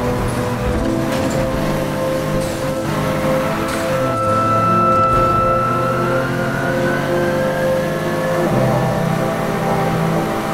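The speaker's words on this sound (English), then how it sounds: "today I'll be racing with the BMW doing a circuit race" A BMW engine revs and accelerates hard in a circuit race in Need for Speed Heat, a loud continuous drone with rising and falling pitch and gear shifts, heard alone with no talk.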